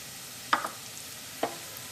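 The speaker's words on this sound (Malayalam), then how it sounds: "ഈ മല്ലിപ്പൊടി നമുക്ക് എണ്ണയിലിട്ടിട്ട് നന്നായിട്ടൊന്ന് മൊരിക്കണം" Coriander powder frying in hot oil for a Thrissur-style chicken and ash gourd curry, a soft steady sizzle with two brief scraping stirs of a spoon, close and quiet, with no talk.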